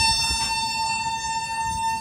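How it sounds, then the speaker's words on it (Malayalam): A long, steady horn blast from the Coromandel Express passing a station on the Bhubaneswar to Chennai route, held for the whole moment over low rumbling rail noise. "കൊറമാണ്ടലിൻ്റെ ആ ഒരു ഹോണടിയാണ് കേട്ടത്."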